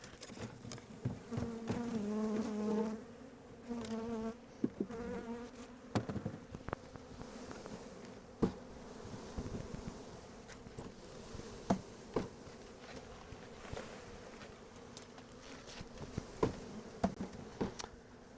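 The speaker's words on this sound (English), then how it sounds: "So now we're going to flip this so I can shake the bees into the hive." Honeybees being shaken into a hive buzz loudly in a dense swarm at the start, with a few sharp knocks and bumps as the box is jolted, then the buzzing thins to a softer drone scattered with frequent taps.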